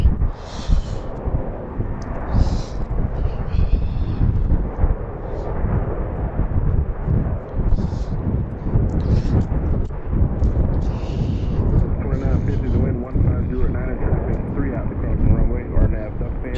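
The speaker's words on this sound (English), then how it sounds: "There's Southwest taking off." A Southwest airliner taking off at BWI airport roars with a loud, sustained, broadband jet rumble throughout, heard near and steady, while voices talk over it and radio chatter chirps intermittently.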